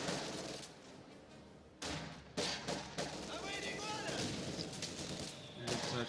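Machine-gun fire and other gunshot bursts in the Company of Heroes 2 winter battle on the Semoisky map. The rattles and booms are dense, loud and overlapping, with someone talking over the combat.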